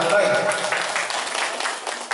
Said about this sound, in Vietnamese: Xin chúng ta cho một tràng vỗ tay